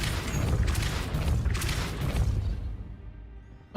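A Depulso spell cast in Hogwarts Legacy lands as a loud, broadband whooshing blast with a booming low rumble, sustained for about two and a half seconds before dying away, with no talk over it.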